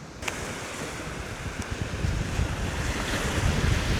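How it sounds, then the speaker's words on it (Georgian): Sea surf at night on a beach, a continuous broad wash of breaking waves growing louder toward the end, mixed with wind buffeting the microphone. "ტალღების ხმა მიმატა და ღამის ბრალია რომ დაღამდა თუ ტალღები ადით"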